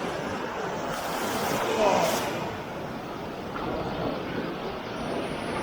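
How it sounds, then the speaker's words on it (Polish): Continuous rushing surf of cold Baltic Sea waves breaking nearby at Mikoszewo, Poland, a steady broadband wash that swells slightly, with wind noise on the microphone. "O, następna fala leci."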